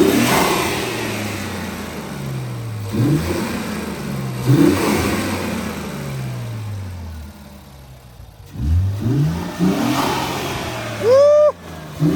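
A Q fitted with a catback exhaust and Red Alpha AMS cold air intakes revs repeatedly, deep engine rising and falling in close, loud bursts with brief pauses between pulls.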